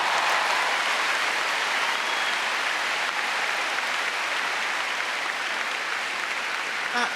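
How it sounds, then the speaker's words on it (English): Spectators cheer and applaud at an international dog agility competition final, a continuous roar of clapping and crowd noise filling the large arena evenly from start to finish. "Give him a cheer"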